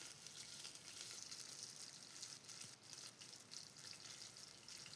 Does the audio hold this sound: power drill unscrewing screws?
no